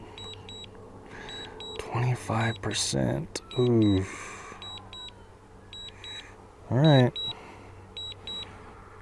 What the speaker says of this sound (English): that beeping is coming directly out of the controller